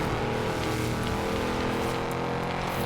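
A dense, steady engine drone from an off-road vehicle in a video game, a continuous loud mechanical hum with layered harmonics and no break, no voices over it.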